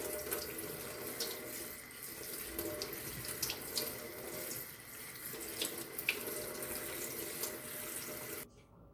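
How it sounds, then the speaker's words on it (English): Fresh strawberries are rinsed under running tap water at a sink, a steady full stream splashing continuously for several seconds before stopping abruptly near the end. "I rinse a few times to make sure that I got all of the stems off"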